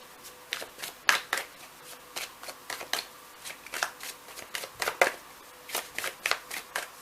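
Tarot cards shuffled by hand at close range, a rapid series of crisp riffling flicks and soft slaps in uneven bursts with short gaps, no talking.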